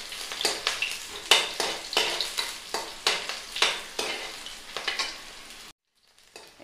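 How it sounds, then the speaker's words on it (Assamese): Chopped green chilies and garlic fry in hot oil in a pan, a steady sizzle broken by a regular run of loud stirring scrapes, then a sudden near-silence at the end. "ইয়াত কাটি থোৱা জলকীয়া আৰু নহৰুখিনি দি দিলোঁ। এইখিনি আমি অলপ ৰঙচুৱা হোৱালৈকে ভাজিম"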